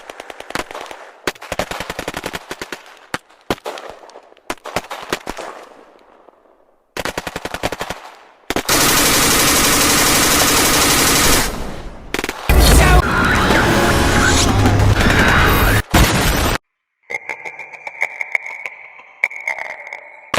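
Rapid machine-gun bursts and single gunshots in a battle scene at a resistance base, loud and close, broken into separate volleys with booms and short silences between them.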